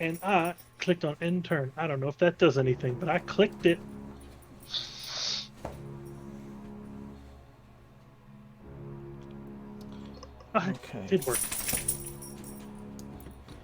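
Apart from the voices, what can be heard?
dog waking up, jangling like keys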